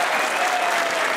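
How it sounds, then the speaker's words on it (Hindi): Studio audience of a comedy talk show breaking into dense, sustained applause, a brief steady burst of many hands clapping. "के लिए एक बार तालियां।"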